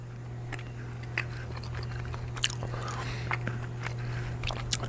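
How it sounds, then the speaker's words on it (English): Close, soft, wet bites and chewing on a piece of purple potato topped with beef tartare, a few small crunchy clicks over a steady low hum. "Let's see if we can get a little piece here so I'm not chewing too much on you."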